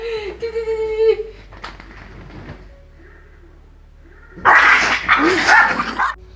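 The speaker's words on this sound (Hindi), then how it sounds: "ये 2 कुत्ते एक दूसरे से झगड़ने लग जाते हैं" Two dogs fighting: a sharp whining yelp and scattered barks give way to a brief lull, then a loud, close burst of snarling, growling scuffle noise at the end.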